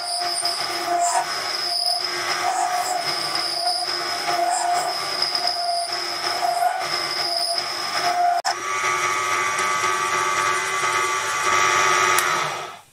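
A Proxxon PD 250/e lathe machines 316 stainless steel, giving a continuous, loud metallic whine with steady high-pitched ringing tones that shift slightly partway through and run unbroken to the end.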